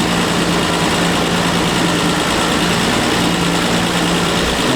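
A car engine idles steadily after tuning of its Zenith-Stromberg carburettor, a loud, even, continuous low hum and rumble close by without pause or change in pace.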